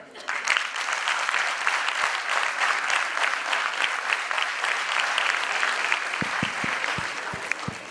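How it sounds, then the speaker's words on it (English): An audience applauding at a college debate competition, sustained, fairly even clapping from a sizable crowd, with a few sharp isolated claps as it dies down near the end. "We can applaud better than that."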